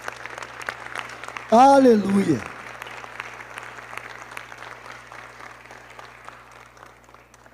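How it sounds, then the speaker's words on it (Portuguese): A church congregation claps steadily through the whole stretch, while one voice briefly rings out with a loud sung shout near the start before the applause carries on alone at a moderate level. "E por isso nós aplaudimos este Deus maravilhoso."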